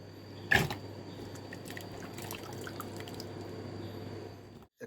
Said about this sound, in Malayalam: ആദ്യം നന്നായിട്ടൊന്ന് കഴുകിയെടുക്കാം